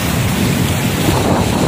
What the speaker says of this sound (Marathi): अथांग पसरलेलो यो आमचं गावकडी गावचं अरबी समुद्र